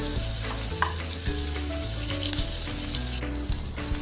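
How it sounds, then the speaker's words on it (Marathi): Chopped onion fries in a pan with cashews until golden, giving a dense, continuous crackling sizzle up close, with occasional stirring scrapes and no voices. "आता आपल्याला कांदा छान परतून घ्यायचा आहे, सोनेरी रंगाचा होईपर्यंत"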